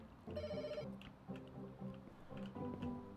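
A telephone rings in the pet hotel management game Pets Hotel, repeating electronic ring bursts in a steady rhythm, moderately quiet and with no talking over it.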